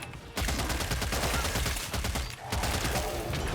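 Rapid gunfire from a weapon in the video game Killing Floor 3, loud and continuous with dense overlapping shots, a brief pause around the middle, then another sustained burst.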